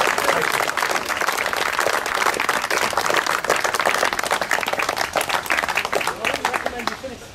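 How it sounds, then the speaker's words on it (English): Audience at a garden party applauding Mark, a dense sustained burst of many hands clapping close by, steady for several seconds before thinning out at the end. "I want to give Mark a great round of applause for another fantastic year"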